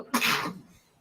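A single sharp sneeze bursts out close by, loud and brief, then trails off quickly into quiet room tone.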